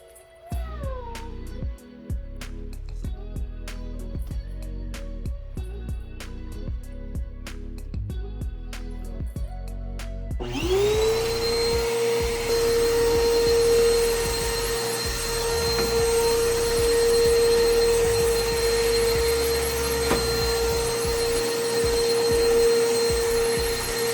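A Bissell vacuum cleaner switches on midway and runs loud and steady with a high whine as it cleans carpet, after a stretch of clicks and shuffling.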